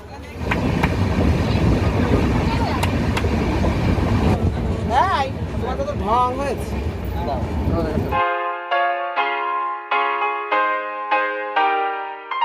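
The Howrah Katihar weekly express at Howrah railway station, with a loud, continuous rumble of train and platform noise that cuts off abruptly into a series of clear, repeated tonal notes.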